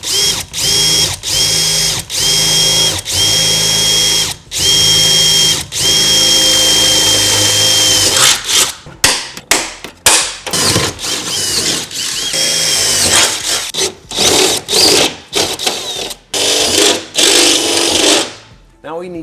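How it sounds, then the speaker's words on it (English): A power drill bores a hole in a Ford F-150 truck, first with a 5/16 bit and then with a step bit for a headache rack. A steady, loud whine runs for about eight seconds, followed by a series of short, stuttering bursts. "I'm going to start with 5/16 on this hole, and then I'm going to expand it with a step bit."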